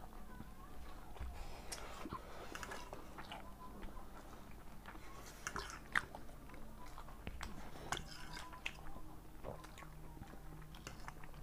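Close, wet chewing and biting while Korean noodles with egg are eaten by hand, steady small mouth clicks and squishes running throughout with no talking.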